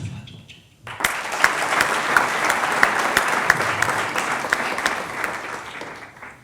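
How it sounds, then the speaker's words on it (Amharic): An audience at a university cultural center event applauds, a dense burst of clapping that starts suddenly and holds steady, fading slightly toward the end. "ለራሳችሁ አጨብጭቡ።"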